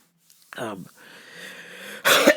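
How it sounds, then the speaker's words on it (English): A short strained vocal sound, a quiet pause with a low hum, then a sharp, harsh cough close to the microphone. "I need to cough like a fucking banshee right now."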